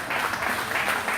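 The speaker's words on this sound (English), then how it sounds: "Everybody, give a round of applause." Applause from a crowd at a preseason wrestling event, steady broadband clapping filling the whole short stretch at moderate loudness with no pauses.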